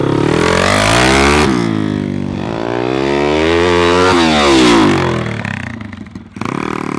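A dirt bike's engine drones loud and close, then drops in pitch as the rider slows using only the front brake, with a brief rev and engine dip near the end.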